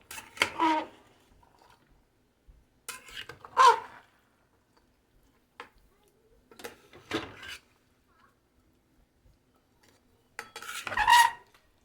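Chicken pieces tossed with spices in a kadai for a kadai chicken dish, heard as four separate bursts of scraping and clattering stirring with quiet pauses between them, close by and moderately loud.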